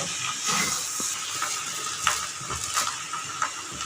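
Leftover rice frying in a pan hisses and sizzles steadily while a spatula stirs and scrapes it in irregular strokes, close and moderately loud with no talk.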